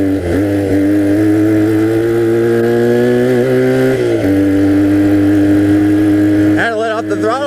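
A 1982 Honda 250cc flat track motorcycle engine hums steadily nearby, its pitch rising and dipping with throttle changes, then revving up sharply near the end.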